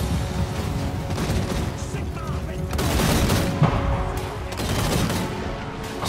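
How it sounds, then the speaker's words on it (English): Massed volleys of musket fire from close-range infantry in a Total War battle in Nordland, a continuous rolling crackle of overlapping shots with swelling louder bursts. "most of them are firing at close range"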